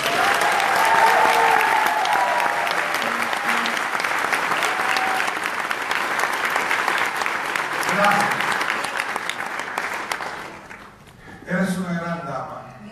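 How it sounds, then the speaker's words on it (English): Sustained audience applause fills most of the clip, loud and dense, at a live event honoring a woman, then fades near the end as a voice briefly speaks. "Can you please give a big round of applause to God?"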